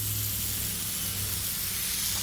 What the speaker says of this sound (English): Here, I'll spray.